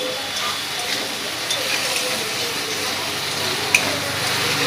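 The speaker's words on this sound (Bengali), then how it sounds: "মশলাটাকে খুব ভালো করে কষিয়ে নেব" Spice paste with grated tomato frying and being stirred in a pan for a jackfruit kofta curry, a steady soft sizzle with occasional scrapes and one brief clink, continuous and close throughout.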